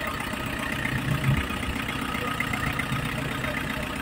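A Mitsubishi L300 engine idles steadily after its cylinder head was refitted, a continuous mid-pitched running drone with faint ticking, close by and without pauses.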